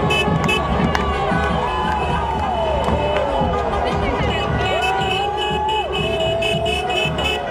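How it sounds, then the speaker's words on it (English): Large crowd parading through Windsor streets celebrating Canada's Olympic men's hockey gold, a continuous roar of cheering and hubbub with horns and whistles rising and falling over the din. "the large crowd formed up a parade and headed en masse towards the"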